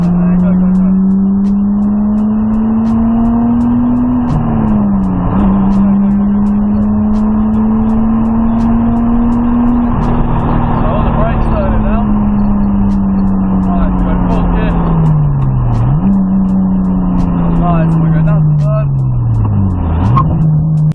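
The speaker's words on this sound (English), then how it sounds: "I'm not sure if you can hear the engine" A car engine heard from a microphone inside the cabin while driving, a loud steady drone that rises and falls as revs change, with several distinct dips like gear shifts or throttle lifts and road noise underneath.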